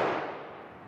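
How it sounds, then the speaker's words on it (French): A single sharp gunshot cracks in a street in Strasbourg during an attack and echoes away, distant and fading. "À nouveau 3 coups de feu"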